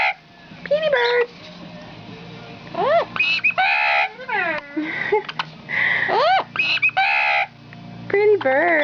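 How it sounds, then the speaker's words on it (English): Pet birds squawk and screech up close, with a steady string of sharp, rising squeaks and harsh calls, several in quick succession, indoors and with no talking. "in some of my videos you hear squawking or squeaking or whatever. And it's these guys."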